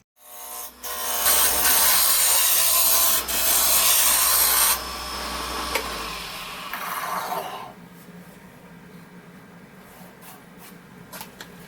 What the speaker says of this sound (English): I stick between centers on the lathe and use my roughing gouge to round over